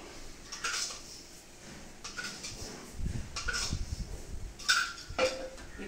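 Chopped apple, banana and mango tossed with sugar in a bowl: soft clinks and scrapes of a spoon against dishware, irregular and close, with a few sharper taps and a faint background hum, no talking.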